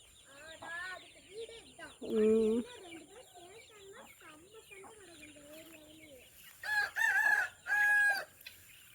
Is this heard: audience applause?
no